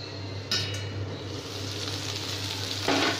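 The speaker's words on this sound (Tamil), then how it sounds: "சூப்பராக ஃப்ரை ஆயிடுச்சு பாருங்கள்." Brinjal (eggplant) slices fry in a pan for a spicy brinjal fry, giving a steady, close, even sizzle with a couple of faint utensil clinks over it and no talking.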